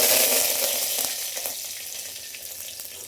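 Curry leaves hitting hot oil with cumin for a sprouted-gram saaru, a loud, dense crackling sizzle right up close that gradually eases off.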